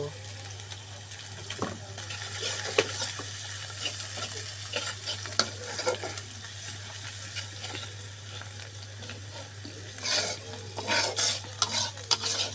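Minced chicken with onions and turmeric sizzles steadily in a frying pan as a spatula stirs and scrapes throughout, with occasional louder knocks and a brief watery rush near the end.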